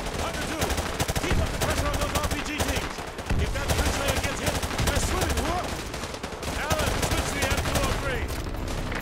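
Sustained gunfire from the Call of Duty Modern Warfare 2 Remastered campaign, dense automatic bursts and shots packed together with little pause, loud throughout, with a voice talking faintly underneath.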